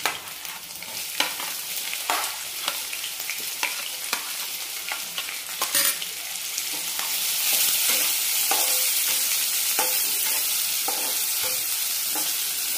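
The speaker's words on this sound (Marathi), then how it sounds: "कांदा टाकून घेते।" Onions hitting a pan with coarsely crushed ginger and garlic, a steady close sizzle that swells louder partway through, broken by repeated scraping stirs.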